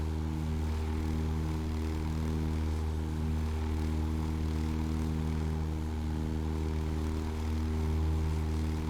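A propeller plane engine held at full throttle in a flight simulator drones loudly and steadily, a constant low hum with stacked harmonic tones and no break.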